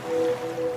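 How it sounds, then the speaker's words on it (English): A dog licks a person's ear up close, producing a short, wet, whooshing swish that resembles the wash of ocean waves, with a faint tonal hum underneath. "Ah, no, that's the dog licking your ear."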